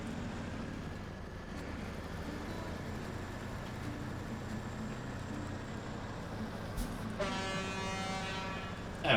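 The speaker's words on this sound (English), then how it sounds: "Such a good horn." A truck's air horn blares once near the end of a SnowRunner drive, a single loud, bright tone over a constant rumbling engine drone.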